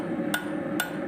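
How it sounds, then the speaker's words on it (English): Two sharp metallic strikes of a rounding hammer on metal while forging, spaced about half a second apart, close and clear over a steady background hum. "that's my rounding hammer"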